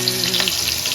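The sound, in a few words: vegetables stir-frying in oil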